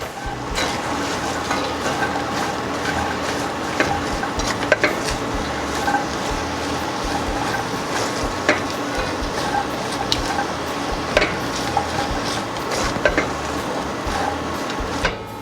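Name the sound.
mixing salt, potato and onions together in a pot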